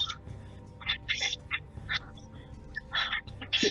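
Short nasal duck quacks in a shooting video game, several bursts in quick succession over a low hum, with faint talk underneath.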